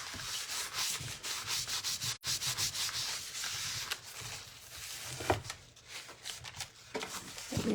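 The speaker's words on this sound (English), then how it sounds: "Let me get this sanding dust off of here." Sanding dust is rubbed and wiped off a decoupage surface by hand, a close, soft, rhythmic scratchy brushing in repeated quick strokes with brief pauses, with no talking.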